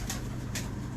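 A prized pigeon bought in Dubai, its low throaty coo sounding close and steady under a constant low hum, with two brief soft bursts in about a second.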